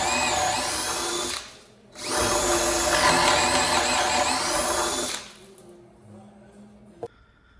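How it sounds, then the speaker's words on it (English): A power drill whines loudly in two bursts while drilling a hole for a floating shelf, pausing briefly between them, then winds down to quiet with a small knock at the end. "let's go ahead and drill this last hole"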